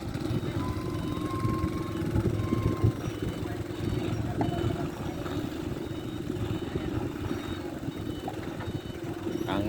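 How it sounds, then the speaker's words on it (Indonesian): Strong wind gusts across a reservoir shore at Jatigede, a steady low rumbling roar with buffeting, filling the scene continuously. "Angin bertiup kencang ya,"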